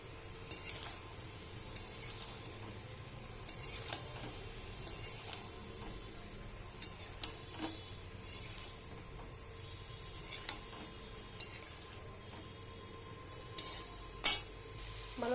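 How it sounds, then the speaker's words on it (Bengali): Jackfruit being stirred in a cooking pan, with soft scraping strokes and faint sizzling recurring at irregular intervals under a low steady hum, fairly quiet and without talk. "তো এবার আমি নেড়ে দেবো ভালোভাবে।"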